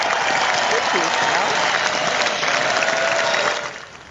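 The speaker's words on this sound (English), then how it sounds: "Big round of applause for that." A studio audience breaks into steady applause for a guest, a full, even clatter of many hands that holds for several seconds before tapering off, with a faint voice riding underneath.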